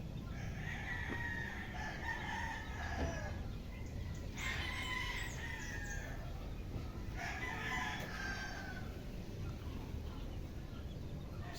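Backyard roosters crow several times at a chicken coop, with hens clucking amid faint, distant-sounding farmyard ambience.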